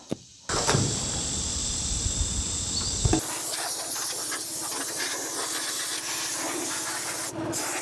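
A spray can of Rust-Oleum primer hisses in a long continuous burst after a brief rattle, then a softer, steady spray, close and alone.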